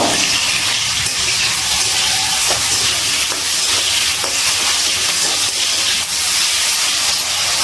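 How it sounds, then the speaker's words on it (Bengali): Cut potatoes frying in hot oil with a little salt, giving a loud, dense, unbroken sizzle and hiss close up, with faint stirring scrapes underneath and no talking. "এবার আলুগুলো খুব ভালো করে লাল লাল করে ভেজে নেব।"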